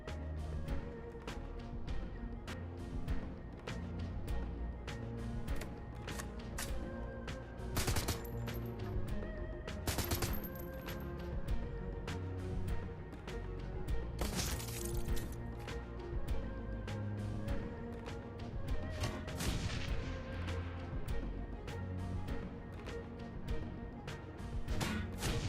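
Repeated explosive blasts and gunfire from combat in the game Shadowrun Hong Kong, with sharp bursts standing out over a dense, continuous battle din throughout.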